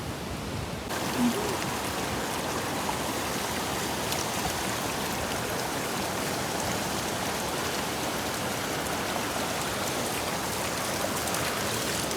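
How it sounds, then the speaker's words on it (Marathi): Heavy rain pours steadily beside a swollen river, a dense, continuous hiss of drops and rushing water holding at an even level throughout with no talking. "फुल पाऊस पडतो बघा समोर"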